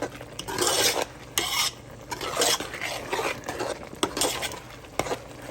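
Green onions with red and green bell peppers saute in a pan, a soft sizzle broken by repeated scraping strokes of a utensil stirring against the metal, close and fairly quiet.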